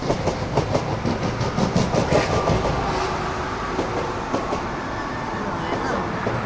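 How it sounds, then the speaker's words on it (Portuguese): A double-decker train rolls past in Paris, a steady rumble with rhythmic clickety-clack of wheels over rail joints, fairly close and continuous, while people talk over it. "Aqui vem o comboio a passar agora."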